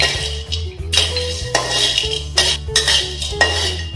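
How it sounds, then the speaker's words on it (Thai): Star anise and cinnamon sticks dry-roasting over low heat in a pan, with repeated metallic scrapes and clinks of a utensil against the pan in short bursts, close and fairly loud. "เราก็จะนำเปยกั๊กกับ อบเชย เรามาคั่วไฟอ่อนๆนะครับ"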